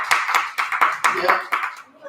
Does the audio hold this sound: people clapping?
yes